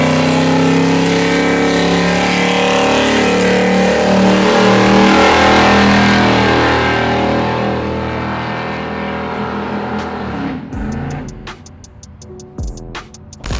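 Nitrous 1970 Chevelle SS muscle car V8 roaring loudly and steadily nearby, then fading and dropping off into a rough idle with clicks and knocks toward the end.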